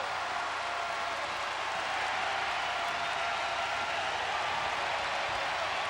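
The crowd at a UNC versus Duke basketball game at the Smith Center roars in a dense, sustained wash of cheering and applause. It sounds distant and blended, without a break.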